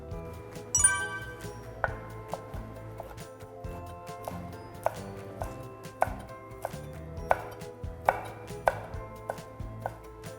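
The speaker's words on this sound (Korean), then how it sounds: "바지 잎을 돌돌돌 말아서 채 썰어줄게요." Rapid knife chopping of rolled basil leaves into strips on a cutting board, a quick series of crisp taps repeating in bursts, close and clear with no talk.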